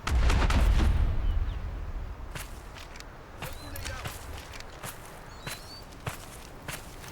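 Footsteps thud and scuff in the shooter game Delta Force amid a low rumble of distant gunfire and explosions at the start, with faint voices now and then.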